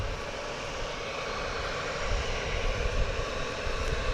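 An American Airlines Boeing 737-800 at DFW Airport whines and roars with steady jet engine noise before takeoff, broad and continuous from a distance.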